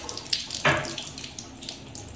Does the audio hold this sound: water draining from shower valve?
yes